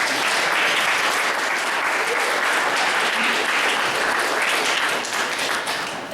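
Sustained, loud audience applause fills a small gallery after a poetry reading, steady dense clapping throughout with no break.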